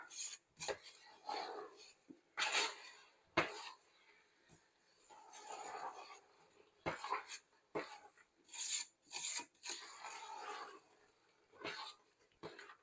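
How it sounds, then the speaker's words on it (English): A spoon stirs jam and sugar in a pot, making repeated close, gritty scraping strokes in irregular bursts separated by brief pauses. "You want to keep stirring until the sugar melts."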